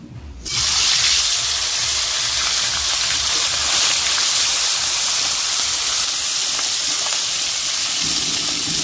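Koi fish dropped into hot oil in a wok, a sudden loud burst of frying that settles into a steady, broad sizzling hiss close up.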